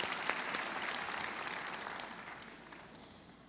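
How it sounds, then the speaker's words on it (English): Steady applause from a commencement audience, a dense, even wash of clapping hands that fades slightly across the clip with no talk over it. "Please recognize the Board of Trustees with a round of applause."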